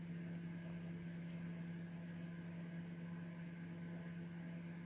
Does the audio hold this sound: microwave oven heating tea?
yes